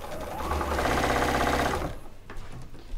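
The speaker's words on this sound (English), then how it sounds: "Now we're going to sew right down to the corner." A sewing machine stitches quilt binding with a 1/4 inch seam, running in a fast, loud, steady whir for about two seconds before stopping, followed by quieter handling of the fabric.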